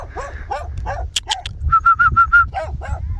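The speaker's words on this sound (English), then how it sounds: "Look at that dog over there." A sheepdog with a black snout barks outdoors, first a few scattered woofs, then a quick run of five sharp, high barks at moderate distance.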